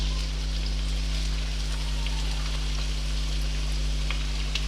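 Finely chopped onions from two medium onions frying in oil over high heat, giving a continuous, even sizzle with a steady low hum underneath.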